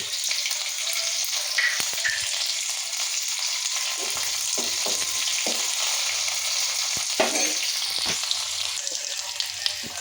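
Chopped onion with garlic and ginger paste sizzles steadily in hot oil in a pan, a close, crackling fry broken by occasional scrapes and clinks of stirring.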